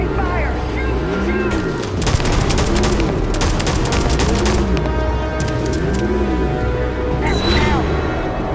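Gunfire and combat in the video game Starfield, with clusters of sharp rapid shots and bursts over a steady droning hum and a repeating warbling, siren-like tone, loud and close.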